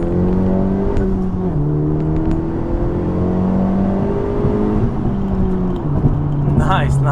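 A Honda Civic Type-R FK8 engine pulls hard from inside the cabin with a loud, rising drone that climbs through several gear changes, each marked by a drop in pitch before it climbs again, and a voice talks briefly over it.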